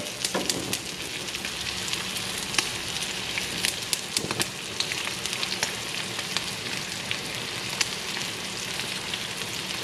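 Potatoes fry in a pan on a side burner at medium heat, giving a steady, close crackling sizzle that runs unbroken throughout, with dense popping spits and no talk over it.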